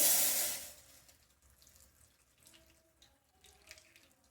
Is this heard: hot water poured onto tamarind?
yes